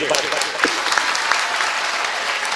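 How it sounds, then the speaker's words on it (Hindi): Loud, vigorous applause from a mushaira audience in Deoband, a thick burst of many hands clapping throughout, with faint voices mixed into the crowd. "हिंदुस्तान की मोहब्बत में आपकी पुरजोर तालियां एक बार बजे"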